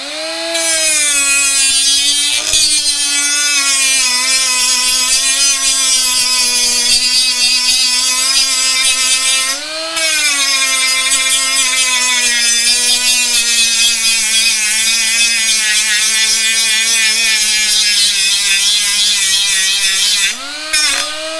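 A Milwaukee M12 die grinder running at setting 3, 20,000 RPM, a loud steady high-pitched whine with slight pitch wobbles under load and a couple of brief dips, close and continuous without speech.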